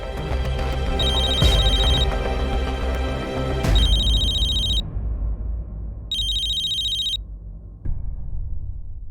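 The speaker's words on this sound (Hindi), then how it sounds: "पवन का फोन 4थी या 5वीं बार कर रहे हैं।" A phone rings with a repeating electronic tone over loud background music in a TV drama scene, cutting in and out in bursts.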